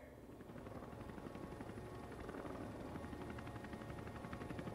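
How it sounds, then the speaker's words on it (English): Military helicopters fly over the Russian Victory Day parade in 2020, a steady, thick rotor thrum and whine holding evenly throughout, quiet and distant-sounding with no clear talk. "a group of different helicopters or fighting helicopters that they shown at the in the"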